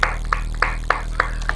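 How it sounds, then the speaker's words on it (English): Six sharp claps at a steady rhythm, about one every third of a second, from a class group at a developers' community day, each a crisp transient over a low steady hum. "So let's clap for ourselves."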